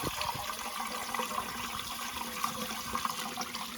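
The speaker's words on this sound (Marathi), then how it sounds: "आता मी मस्तपैकी आंबे धुवून घेतले" Water splashes and trickles continuously as mangoes are washed, a steady, moderately quiet liquid sound with no talking.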